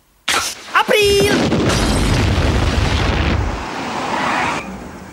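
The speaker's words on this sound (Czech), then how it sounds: "To znělo jako výbuch v Simpsonovic Residenci." A sudden loud boom from a cartoon explosion in The Simpsons, with crackling debris and a rumbling roar that slowly fades, preceded by a brief rising cartoonish zip.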